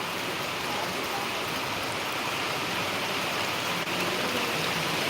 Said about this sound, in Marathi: सध्या मेहकर तालुक्यामध्ये चांगला पाऊस बरसताना आपल्याला दिसतो आहे